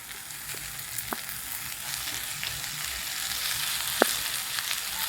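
Washed, chopped spinach sizzles in a hot pan with a dense, even crackling hiss, close and steady, broken by a couple of sharp utensil taps.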